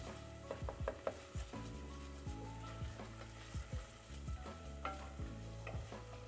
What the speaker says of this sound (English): we're frying it away, and we're frying it in all of that lovely oil